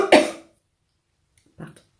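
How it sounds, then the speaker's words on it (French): Two coughs close to the microphone: one harsh, strong cough, then a pause and a softer, shorter second cough. "Je suis désolée, je tousse."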